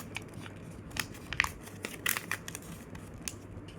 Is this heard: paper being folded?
yes